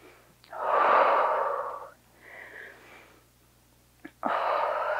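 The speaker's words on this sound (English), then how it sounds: "take a couple more deep breaths" Slow, deep breaths during a standing Pilates slider workout: a long audible inhale, a quieter pause, then another breath beginning, close and with no talk.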